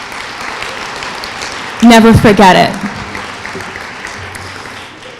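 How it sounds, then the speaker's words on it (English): Graduates applaud at a graduation lecture, their clapping a steady, close wash across the whole stretch, with a short burst of a voice speaking over it early on. "Give yourselves a round of applause."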